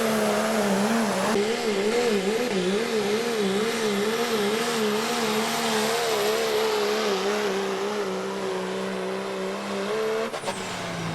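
A big block 4x4 truck roars down a dirt pulling track, its engine holding a loud, wavering high drone with rising and falling pitch for several seconds before cutting off abruptly near the end.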